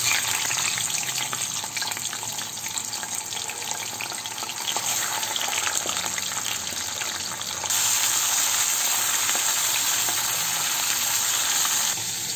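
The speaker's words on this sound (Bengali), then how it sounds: "মাছগুলো এবার আমি প্রথমে ভেজে নেব।" Pomfret fish fry in hot oil in a pan, giving a steady, close hiss of sizzling and bubbling that continues without pause and brightens a little partway through.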